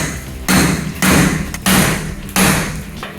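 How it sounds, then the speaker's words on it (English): Four heavy hammer blows strike a ute's torsion bar and control arm, each loud metallic thud ringing out briefly at a steady pace, close by. "let's hammer the shit out of this until it comes off"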